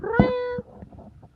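A cat gives one clear, close meow with a rising and falling pitch, followed by faint softer sounds.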